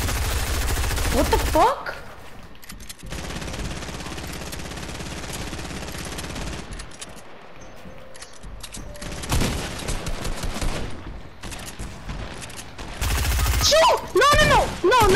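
Rapid bursts of gunfire from a shooter video game crackle loud and close in fusillades, with excited players shouting over them.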